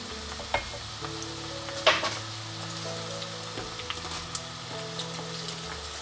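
Onion and cabbage fry in a pot, a steady close sizzle and crackle with a few sharp spits and stirring knocks, no voices over it.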